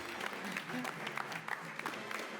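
A studio audience on a comedy game show applauds, a moderate, steady patter of clapping lasting a couple of seconds with crowd murmur mixed in.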